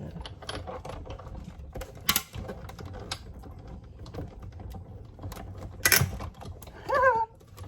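A hand-cranked craft die-cutting machine presses a Tim Holtz metal die through paper, giving irregular mechanical clicks, creaks and grinding rattles, with a few sharper clunks toward the end, close and moderately loud.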